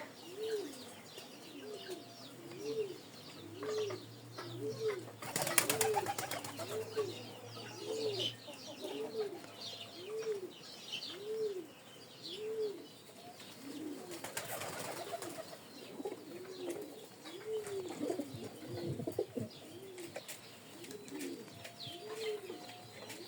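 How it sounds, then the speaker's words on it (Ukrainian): Pigeons coo over and over in a steady rhythmic chorus close by as they feed after rain, with occasional bursts of flapping wings and faint chirps mixed in. "Голуби, звісно, лушпарять тільки так."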